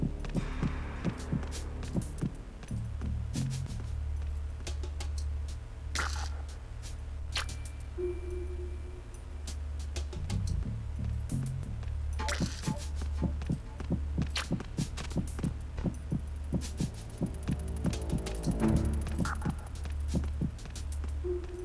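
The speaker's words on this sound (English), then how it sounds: "your heartbeat goes up if there's a guard nearby" Heartbeat in Metal Gear Solid 2 with a guard nearby, a steady low thumping pulse running throughout with brief clicks and small clanks over it, close and even in rhythm.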